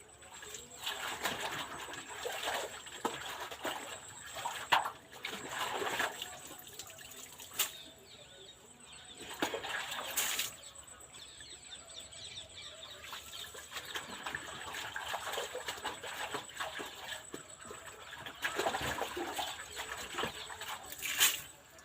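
Freshly pulled amaranth greens are swished and rinsed in water to wash off soil before going to market: quiet, scattered splashes and drips, with birds cooing softly in the background.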